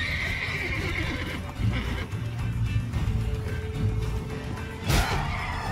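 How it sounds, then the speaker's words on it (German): In The Witcher 3 video game, a horse gives a loud, close whinny with some hoof clatter and a brief crash, all against game background noise. "Niemand greift mein Pferd an."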